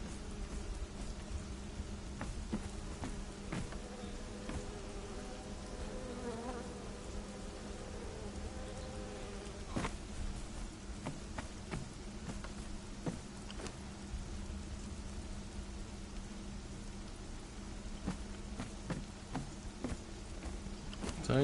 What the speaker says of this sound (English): there's actual bees flying around the beehive now